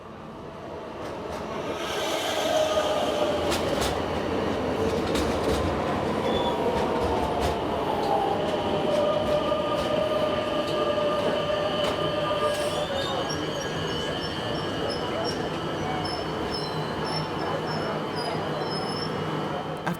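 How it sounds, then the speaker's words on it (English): An FE220 commuter train on Naples' Circumvesuviana railway rumbles steadily at close range with high-pitched wheel squeal and brake tones as it arrives at the platform. Faint voices and station echo sit underneath. "another FE220 train arrived to take me back to Sorrento"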